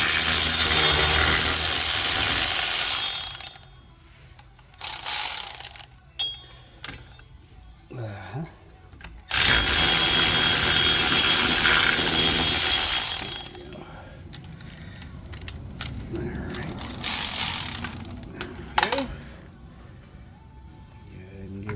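Power tool spinning nuts off the rear axle of a Toyota Tercel 4WD wagon, heard as long, loud, whirring bursts of the driver, with quieter ratcheting and clinking of metal between them.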